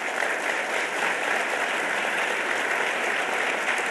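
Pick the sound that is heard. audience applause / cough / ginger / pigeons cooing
audience applause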